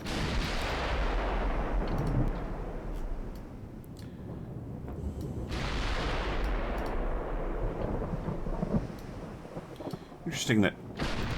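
Heavy guns of the Japanese battleship Fuji fire in a naval warfare game, several deep booming blasts rolling over a constant rumble, with a person talking over them.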